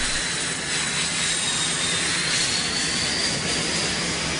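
Military jet aircraft from the 1991 Gulf War bombing campaign roars past in a loud, steady, unbroken rush of engine noise, with no voices over it.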